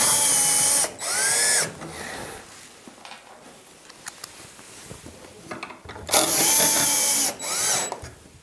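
Power drill driving screws to mount a winch block to an attic ceiling, in two loud whirring bursts, each with a pitch sweep as the screw seats, separated by quieter handling clicks.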